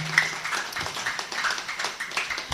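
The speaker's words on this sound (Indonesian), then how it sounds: "boleh tepuk tangan yang meriah untuk kita semua" Audience clapping at an evening Islamic faith-building gathering, a fairly faint, scattered patter of hands that goes on steadily and sounds somewhat distant.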